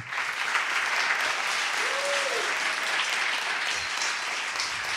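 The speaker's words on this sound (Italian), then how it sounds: "Applauso." Studio audience at the opening of an Italian talk show breaks into steady, even applause that holds throughout, with a brief whistle-like tone rising and falling in the middle.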